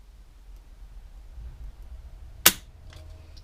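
One sharp, loud click of a firearm trigger breaking while its pull weight is measured with a gauge, alone against a quiet room hum, followed by a faint rustle.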